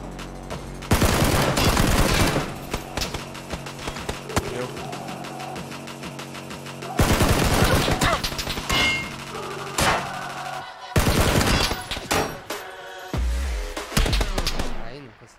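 Video game gunfire comes in long, dense automatic bursts with several pauses between them, loud and close, and a voice occasionally talks over it.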